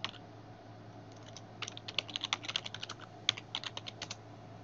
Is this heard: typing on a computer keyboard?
yes